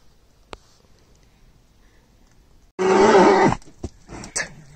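A single loud, harsh horse neigh bursts out close by after near silence, followed by a few short snorts and thumps.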